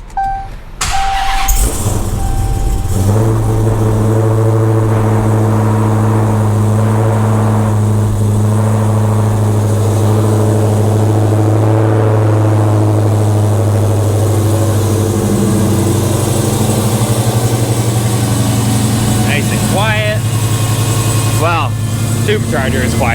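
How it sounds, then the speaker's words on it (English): A modified Dodge Challenger SRT Hellcat with a large aftermarket throttle body and Holley fuel system cranks and fires, then settles into a loud, close, rumbling idle that holds steady throughout. "But she starts up and runs just like stock, even with that huge throttle body in here."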